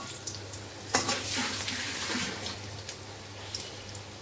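Prawn fritters sizzle in a pan, a steady soft frying hiss with occasional brief crackles and stirring clinks, close by with a low electrical hum underneath.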